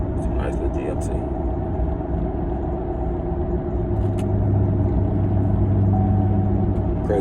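GMC truck engine rumbling at idle close by, a steady low drone that swells slightly louder in the second half, with a voice talking over it.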